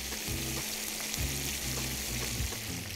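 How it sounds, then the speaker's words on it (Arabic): Flour being stirred into a seafood soup in a pot, with soft scraping and clinking of a spoon against the pot in an irregular rhythm over a steady background bubbling hiss. "نحط معلقه دقيق في النص كده ونقلبها كويس"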